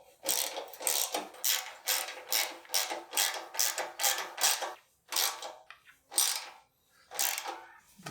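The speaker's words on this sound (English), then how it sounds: "we gotta tighten all the screws from the previous steps" Screws are tightened on a Horizon 7.0AT treadmill with a ratcheting tool, a rapid series of close, regular clicking bursts with short pauses between turns.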